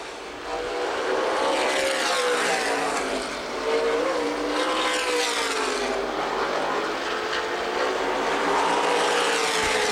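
Late model sportsman stock cars racing at Winchester Speedway, a loud continuous engine roar with rising and falling pitch as cars circle the track, filling the whole stretch with no voices.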